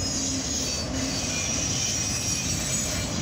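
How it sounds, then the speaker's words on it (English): A CSX northbound auto rack freight train rolls past in the evening, a steady loud rumble of wheels on rails with faint squealing, continuous and close throughout. "this is a CSX auto rack train"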